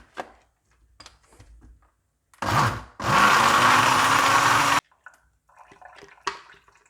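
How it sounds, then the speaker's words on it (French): A kitchen blender whirs loudly in a steady burst for about two seconds, blending set melon jelly into a smooth gel, with a short lead-in pulse and quiet clatter before and after. "on va la mettre dans le mixeur et on va faire tourner un petit peu"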